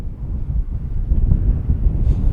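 Wind buffets the microphone outdoors while an RC plane, an FMS Kingfisher, flies with its motor off, a loud steady low roar with no voices.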